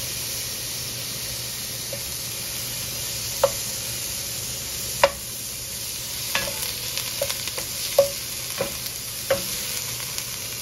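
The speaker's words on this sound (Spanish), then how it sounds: "Vamos a agregar primero la grasita que le quitamos, para no usar aceite." Pork fat frying in a pan, a steady broad sizzle and hiss throughout with occasional small pops and a few scraping stirs, close and continuous, no talking.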